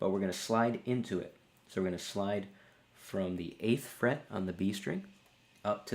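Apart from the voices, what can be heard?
No everyday noises stand out.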